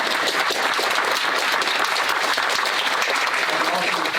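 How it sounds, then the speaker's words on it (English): A community forum audience applauds in a dense, continuous burst of clapping that fills the room at full loudness. "let's have a round of applause from the Cole Gross Community Impact"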